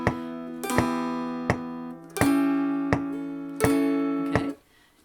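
Strummed chords ring out on an acoustic instrument, changing every other metronome tick, with sharp tick clicks punctuating steady, sustained chords that stop cleanly near the end.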